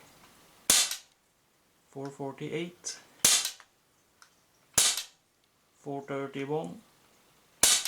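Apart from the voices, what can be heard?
Cybergun FN Herstal M4 BB airgun firing shots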